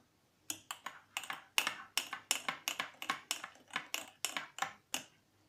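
A spoon stirs a cup of cappuccino, giving a steady run of about fifteen light, quick clinks against the cup, close and quiet, with no talking.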